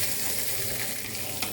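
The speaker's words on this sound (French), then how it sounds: "Je fais revenir mon oignon dans la casserole." An onion sautés in a saucepan, giving a steady, close sizzle and crackle of frying that runs unbroken throughout.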